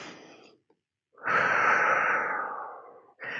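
Heavy, deep breaths follow a kettlebell exercise in a home workout: a short exhale, a pause, then one long loud sighing breath and the start of another, close to the microphone.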